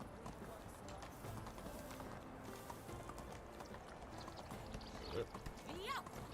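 In the medieval game Medieval Dynasty, horse hooves clip-clop at a steady trot under continuous background sound, with a short vocal sound near the end.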